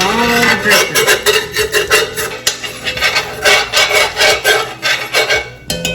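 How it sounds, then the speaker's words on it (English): A spoon scrapes meat drippings across the bottom of a skillet for Salisbury steak gravy, giving a steady run of rasping, rubbing strokes with a few brief metallic clinks throughout. "So I'm going to take this spoon and scrape up all the drippings."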